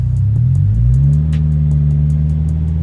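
A supercharged Scion FR-S with a manual gearbox pulls away in first gear, its engine giving a steady, close low rumble that rises slightly in pitch as the car eases off.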